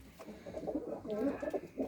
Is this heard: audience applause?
no